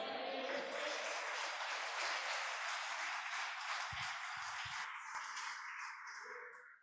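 A church congregation applauds loudly in a dense, sustained wash of clapping that fills the whole stretch, slowly thinning toward the end.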